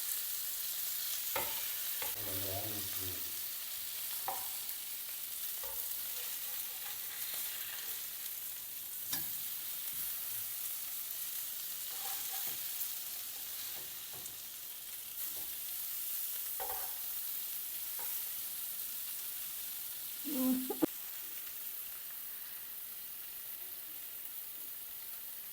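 Koli fish sizzles steadily in hot oil in a pan, a constant crackling hiss running throughout with occasional soft stirring and turning clinks, no voices.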